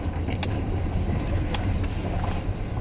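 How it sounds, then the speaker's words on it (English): A 2021 Jaguar F-Pace SVR with a 550-hp V8 is driving on the road, its engine a steady low rumble under road and wind noise, with a couple of brief mechanical clicks and creaks inside the cabin. "Taking a spin in this 2021 Jaguar F-Pace SVR."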